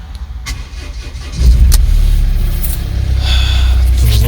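A Volvo V60 engine cranks and catches, settling into a steady close idle after a brief starter whir, with no one talking.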